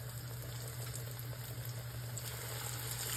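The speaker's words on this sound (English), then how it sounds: "now we're gonna throw it into our cast iron skillet" Chicken fries in oil in a cast iron skillet, making a steady, dense sizzle and hiss that holds evenly throughout with no talking.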